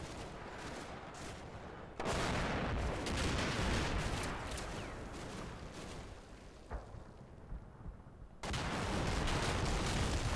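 Gunfire from a unit in the wartime strategy game Combat Mission, a dense crackling fusillade of rapid shots that runs almost without a break, loud and steady, with a brief lull before the shooting swells again.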